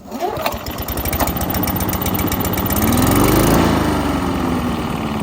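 A vintage Honda HRS-21 walk-behind lawnmower engine catches after a pull start and settles into a steady, fairly quiet idle, its rapid putter holding close and constant with a slight rise in pitch partway through.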